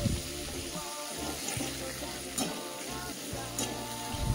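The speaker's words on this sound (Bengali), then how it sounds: "আলু আর ফুলকপি দুটো একসঙ্গেই ভেজে নেব" Cauliflower florets and potato pieces fry in hot oil with a continuous crackling sizzle, close and fairly loud, broken by occasional scraping stirs and clatter from a utensil in the pan.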